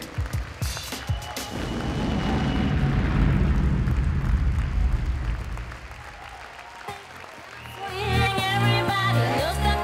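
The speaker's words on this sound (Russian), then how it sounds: "Настоящий взрыв аплодисментов зрителей." An audience at a performance at the Olimp-2015 show breaks into a long, loud wave of applause that swells, dips and rises again near the end, with a bright tone entering toward the close.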